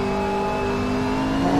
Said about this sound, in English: I can hear the cars in the distance, which means I'm getting close enough to catch them.